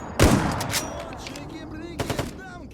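Gunfire in the shooter game S.T.A.L.K.E.R. Gamma: one sharp, loud shot up front, then a quick cluster of three lighter shots later over a low game ambience, with faint voice-like sounds in the mix.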